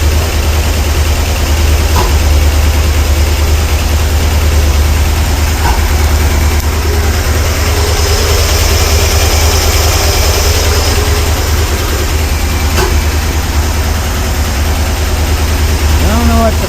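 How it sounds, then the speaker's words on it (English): A 454 V8 idling with an irregular popping from a suspected bad spark plug or sticking lifter, a loud, steady low rumble throughout with faint intermittent ticks, close up and without talk. "That popping, I don't know if that is bad spark plugs or a lifter sticking."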